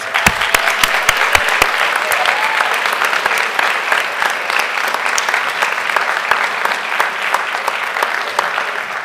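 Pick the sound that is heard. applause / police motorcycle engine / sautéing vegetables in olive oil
applause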